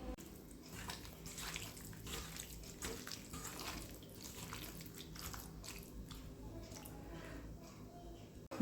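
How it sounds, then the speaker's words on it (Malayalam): Water poured into a chicken liver curry gives a soft, ongoing splashing and bubbling wash, faint and steady over several seconds. "1/2 ഗ്ലാസ് വെള്ളം ഒഴിച്ചിട്ടുണ്ട്."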